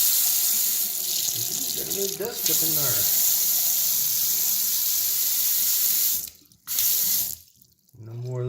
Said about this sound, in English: Reach back under the sink, turn the water on.